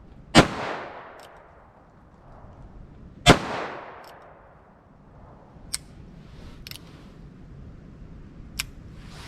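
Two sharp, loud .22 Magnum shots crack from a small Heritage Barkeep revolver several seconds apart, each ringing out briefly, followed by a few faint metallic clicks at close range.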